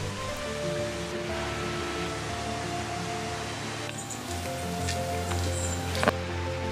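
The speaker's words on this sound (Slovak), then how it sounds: "Na konci je lagúna a do neho padá voda z 25 prameňov." Water from 25 springs falls into a lagoon in a rainforest-like setting on Madeira, making a steady, even rush of spray and splashing with no breaks. It is moderately loud and heard from nearby, with a faint low hum underneath.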